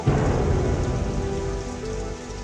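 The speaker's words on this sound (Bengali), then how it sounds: "আর এই ঝড় বৃষ্টির মধ্যেই যাবো বিথি" Heavy rain pours steadily onto a surface while thunder rumbles low underneath, loud and close, with no voices.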